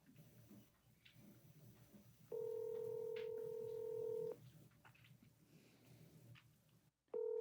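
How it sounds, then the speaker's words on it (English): A phone call being placed: a long steady ringback tone sounds for about two seconds, then a quiet gap with faint room noise, then the tone starts again, fairly loud and close. "Okay, now I'm calling her."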